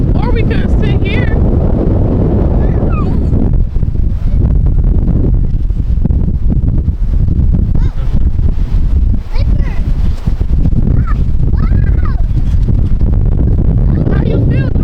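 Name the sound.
wind blowing at Galveston beach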